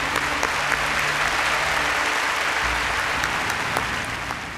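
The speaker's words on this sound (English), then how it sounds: "Please join me to giving a big round of applause for all of the workers and all of them." Large crowd applauding shipyard workers at a cruise ship christening, a steady, loud and continuous roar of clapping that tapers slightly toward the end.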